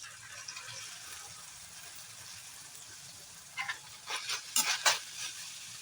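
A wooden ladle stirs fried rice seasoned with soy sauce in a pan over a soft, steady sizzle, with a few brisk scraping strokes clustering near the end.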